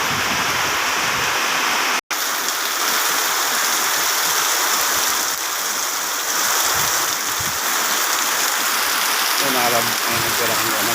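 Heavy rain drums steadily on a village, a loud continuous wash of water with a brief dropout early on and faint chirping near the end.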